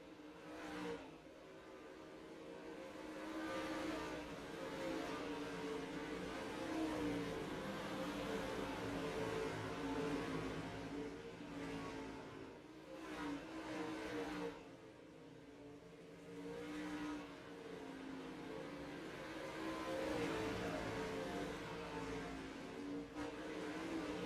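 Dirt late model race cars roaring around Volusia Speedway during a Pro Late Model Dirt Series Winter Nationals race, a continuous loud engine drone that swells and fades as the pack passes, with no talk over it.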